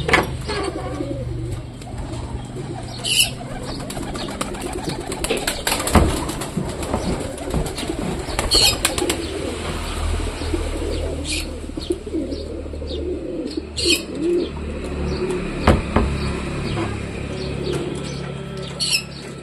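Pigeons coo repeatedly in a steady, busy flock, with fluttering and scattered chirps against a constant outdoor background; no one speaks.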